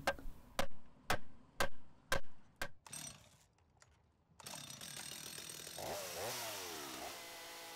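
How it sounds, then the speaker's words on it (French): A chainsaw cuts into a wooden block sculpture; a series of sharp, evenly spaced knocks comes first, then the saw starts and runs loud and steady, its pitch rising and falling as it bites into the wood. "le sculpteur peut utiliser la tronçonneuse pour finir d'ouvrir le siège"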